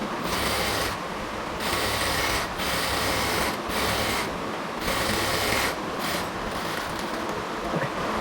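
A sewing machine stitches a salwar in repeated bursts, a loud close rapid whirring chatter that stops briefly several times between runs, with no talking.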